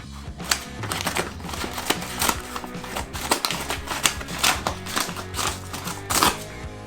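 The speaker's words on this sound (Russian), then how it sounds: "Ножницами открываем упаковки." Scissors snip through paper flour packages in a series of sharp, irregular cuts and crinkles, close and fairly loud, with no talk, while preparing a huge batch of dough.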